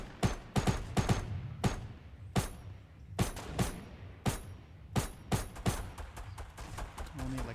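Gunfire from a Fortnite match, sharp separate shots in short irregular bursts spread across several seconds, loud and close, with some quieter background sound between them.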